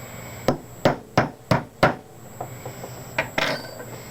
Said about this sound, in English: when you smack it with a hammer